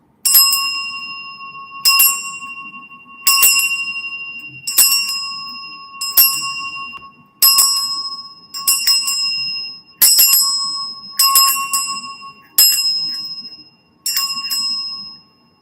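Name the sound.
bell rung to clear magical items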